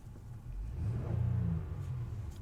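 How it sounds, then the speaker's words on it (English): The V6 engine of a 2021 Honda Passport runs with a soft, deep rumble that swells slightly as if revving lightly, then settles back to a steady low hum. "this V6 sounds very, very nice"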